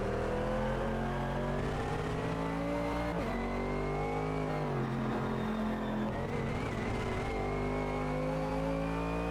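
Race car engine in the Automobilista 2 racing game, a loud sustained drone that revs up and down through gear changes with a brief tire squeal, close and continuous, no talk.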